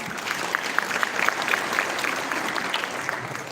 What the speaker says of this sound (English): Ladies and gentlemen, please give them another round of applause